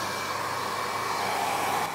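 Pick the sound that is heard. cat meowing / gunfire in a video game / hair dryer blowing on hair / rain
hair dryer blowing on hair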